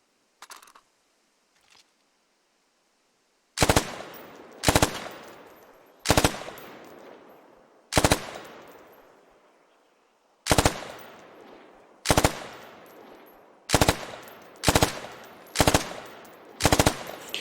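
SAW squad automatic weapon firing 5.56 belt-fed ammunition at a training range: loud, sharp bursts and single reports spaced a second or two apart, each trailing off in echo, after a couple of faint early pops.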